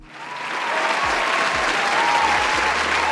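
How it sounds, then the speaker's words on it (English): Sustained applause from a crowd, steady and full, building quickly in the first moment and continuing loudly throughout. "let's give a big round of applause to Droquis"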